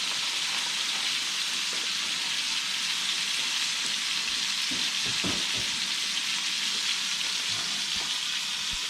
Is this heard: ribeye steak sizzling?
yes